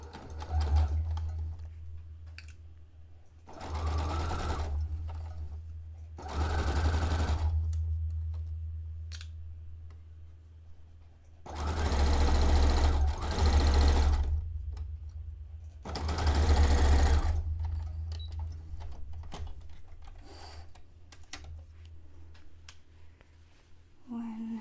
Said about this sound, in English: 10 pieces of fabric that need to get sewn up in this one seam